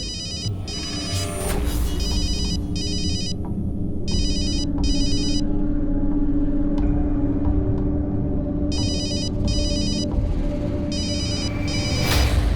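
An electronic telephone ring repeats in regular double bursts over a constant low rumble of background noise.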